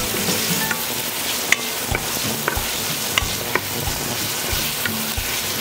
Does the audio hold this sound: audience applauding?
no